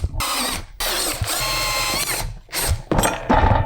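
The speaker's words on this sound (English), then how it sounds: "I'm gonna start by drilling out the rivets on that guy." A power drill whines in several loud bursts as it drills out rivets, starting and stopping with brief pauses, close by and without any talking.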